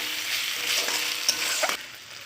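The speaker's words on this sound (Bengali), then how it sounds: "চিংড়ি মাছটা দিয়ে দিলাম, একটু নেড়ে চেড়ে নেব মশলার সাথে।" Prawns fry lightly in a pan with spices, giving a soft steady sizzle broken by scraping stirs and a couple of utensil taps before the sound drops off.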